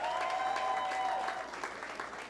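A crowd at a speaking event claps in a short, even burst of applause that fades slightly toward the end, with a faint tonal hum behind it.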